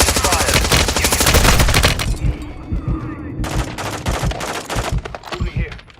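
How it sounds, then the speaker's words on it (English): Rapid automatic gunfire from a Call of Duty Warzone 3 DMZ match, loud dense bursts that pause briefly mid-way and then return as scattered shots with distant booms. "You are taking effective fire."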